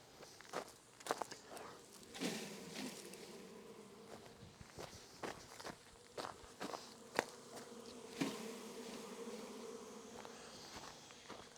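A honey bee hum drifts beneath irregular footsteps and rustling handling noises as bees are shaken from a top bar nuc into a Langstroth box, the buzzing rising and falling at moderate loudness.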